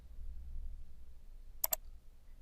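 Two quick, crisp computer mouse clicks, close together and close to the mic, in a quiet room during a Windows install on a Microsoft virtual hard drive.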